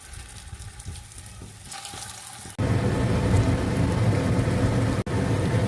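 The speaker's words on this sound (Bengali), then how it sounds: "তেল গরম হয়ে গেছে এবার একটা একটা করে কোপ্তাগুলো দিয়ে দিচ্ছি আমি" Raw banana koftas drop one by one into hot oil, and after a quieter start a loud, dense crackling sizzle takes over and holds steady, broken only by brief cuts.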